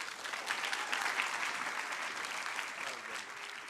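Sustained applause from a wedding reception crowd celebrating a newly married couple, a dense steady patter of many hands filling the room without pause.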